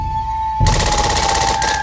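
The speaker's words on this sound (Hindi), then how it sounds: "ये तो गोलियों की आवाजें थी" Rapid bursts of gunfire in a sudden, loud, rattling string like automatic weapon fire, breaking in after a quiet stretch with a steady high tone and continuing densely to the end, with no talking.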